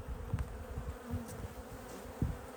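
Honeybees in a hive in October, a soft steady buzzing with faint passing hums of individual bees close by.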